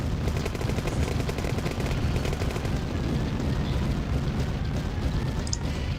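Massed infantry open up on a turret in Command and Conquer, dense overlapping rifle and machine-gun fire with booming impacts, loud and continuous throughout.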